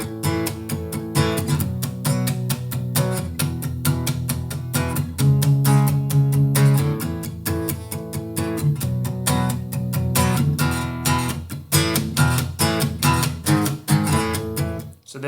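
Electric guitar playing the power-chord riff from a song, with repeated strummed chords, steady driving rhythm, loud and close, with no talking.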